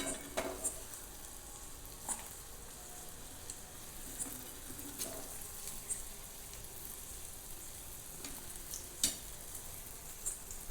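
Sweet potato and potato vadas fry in hot oil, giving a soft, continuous crackling sizzle with occasional light taps from a slotted spoon, faint and fairly distant.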